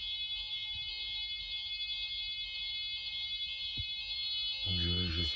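A fire alarm rings steadily inside a building at night, a loud, continuous high-pitched tone running throughout, with a voice briefly speaking near the end.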